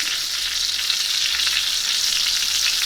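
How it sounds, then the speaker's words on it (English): A New York strip steak sears hard in a hot pan, giving a steady, loud, continuous sizzle and frying hiss with no talking. "that nice hard sear on the front side, that's important. Basting this steak. Cooking it on all sides."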